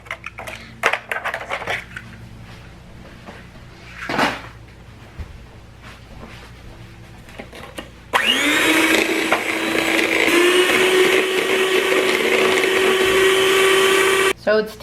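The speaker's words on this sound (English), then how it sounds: "And we're going to beat in the eggs." Electric mixer beating eggs into pumpkin bread batter in a home kitchen: quiet clattering and handling noises first, then a loud, steady motor whir that starts abruptly and runs for several seconds before stopping.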